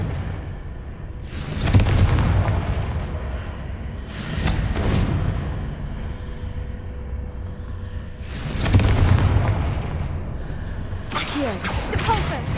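Repeated Confringo blasting spells exploding in Hogwarts Legacy, several loud thudding booms a few seconds apart, each with a rumbling tail, against a steady game background.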